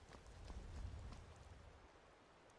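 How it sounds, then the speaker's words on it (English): Rain patters steadily in the Skyrim video game, a quiet, even hiss of drops on surfaces with a soft low rumble underneath and no one speaking. "Still raining out here"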